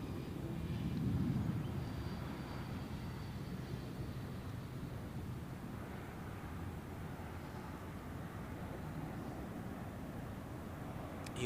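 An Airbus A320 airliner at Zurich Airport, a faint, distant broadband jet roar that swells briefly early on, then holds as a steady low rumble.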